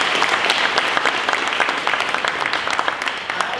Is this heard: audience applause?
yes